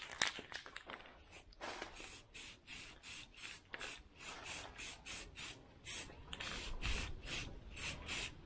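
An aerosol can of plastic paint sprays a dash bezel on a 1968 Chevelle Nomad under restoration, in short repeated hissing bursts with brief gaps, fairly faint and close, with no talk.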